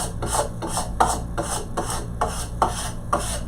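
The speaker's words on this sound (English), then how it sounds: "I'm gonna hold it down a little bit so it won't rattle around so much" A wooden board for a painted porch sign rasping and rattling as it is worked on, a regular back-and-forth scraping stroke repeating about twice a second, close and fairly loud with no talk.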